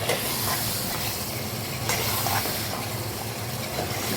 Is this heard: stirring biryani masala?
yes